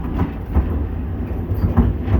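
A passenger train wagon rolls over rail joints on the Yakutsk to Vladivostok line, heard from inside as a steady low rumble with rhythmic clacks about every half second.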